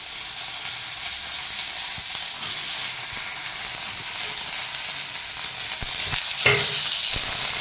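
Mudavattukal root is tossed into hot oil in a pan for a chutney, giving a steady, close, full sizzle throughout with a brief louder crackle near the end.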